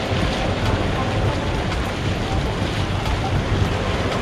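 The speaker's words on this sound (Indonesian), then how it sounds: "kita ketemu nih mata air guys, lagi menggelegar, keren" Roaring spring water gushes on Mount Sibayak, a dense, steady broadband rush that stays loud and unbroken throughout, with some wind buffeting the microphone.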